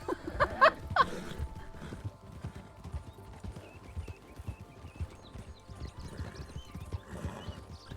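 Horse hooves clip-clop at a steady walking pace in the RedM western roleplay game, close and clear, with a brief whinny near the start and no talk over them.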